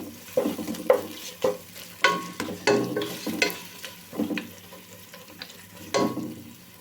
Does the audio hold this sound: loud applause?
no